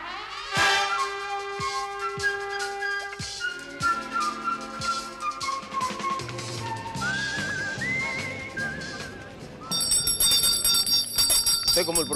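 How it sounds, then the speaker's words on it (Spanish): A hand bell is rung by the host of the 1977 Christmas special of the Spanish TV game show Un, Dos, Tres. Whistle-like tones and clangs come first, then a burst of bright, sustained ringing toward the end. "Soy como el profesor Lápiz con la campana"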